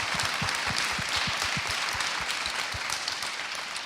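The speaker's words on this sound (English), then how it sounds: "a warm round of applause for our Darebin councillors." Warm audience applause for local councillors at a Darebin community climate event, steady mass clapping from a crowd, continuous and even in level from start to finish.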